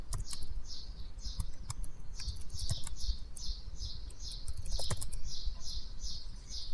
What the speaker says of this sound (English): I would type this.